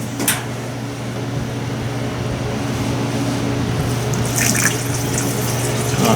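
Gasoline pours steadily from a can into a generator tank indoors, making a continuous liquid gurgling stream that stays fairly loud and close, with a faint hum behind it.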